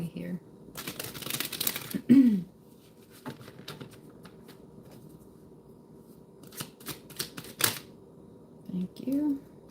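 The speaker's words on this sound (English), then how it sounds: "one more little shuffly here" Tarot cards being shuffled in short, soft crisp bursts during a reading, close and quiet, with a voice speaking briefly in between.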